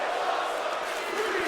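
A wrestling crowd at a SmackDown event roars in a steady, dense wash of cheering and shouting that holds loud and constant throughout, with no single voice standing out.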